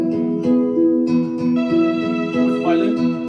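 A harp and an acoustic guitar play a melody together, with plucked notes in a steady, gentle rhythm. The sound is close and clear, with no talking.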